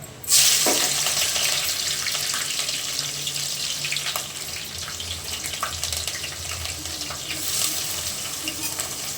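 Whole garam masala spices, cloves, cinnamon, cardamom and caraway, dropped into hot oil in a pot for chicken pulao, a loud steady sizzle that starts sharply and crackles on with occasional stirring, no talking.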